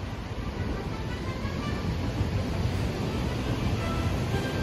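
A Kita-Osaka Kyuko train in a colourful Universal Studios Japan wrap pulls into a station, a steady low rumble and broadband rolling noise with no clear horn.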